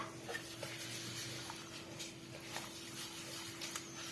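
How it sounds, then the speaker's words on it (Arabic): A spoon scraping and stirring through a melted sugar and ghee mixture with grated ingredient added, heard as faint, soft, irregular scrapes and light knocks over a steady hum. "وهبدا برضو اقلب"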